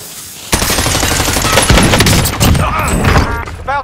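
Warzone match gunfire: dense bursts of automatic weapon fire crackle loudly and continuously with occasional heavy thuds, and voices call out over the shooting.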